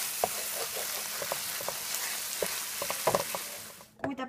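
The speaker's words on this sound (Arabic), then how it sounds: "وغادي نخلي الكفته مع الخضره ولا الصوص يتشحروا مزيان حتى يتحيد السوائل كاملين" Kofta meat, vegetables and sauce sizzle steadily in a pan as the liquid cooks off for a steamed bun filling, with scattered clicks from stirring and a few louder scrapes near the end.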